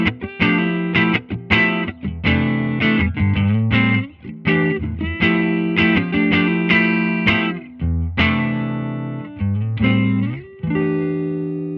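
Clean electric guitar, a 1986 Japanese Stratocaster reissue with Fat 50s pickups played straight into a Supro Royal Reverb amp with no pedals, ringing chords and picked notes with sustained, reverberant tails, loud and alone.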